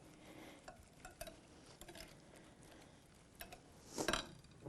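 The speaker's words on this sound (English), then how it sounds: "Mix this together." A spoon stirs a four-cheddar cheese mixture of white and sharp cheddar in a bowl, giving soft, scraping clicks against the bowl's sides, with a louder burst of scraping near the end.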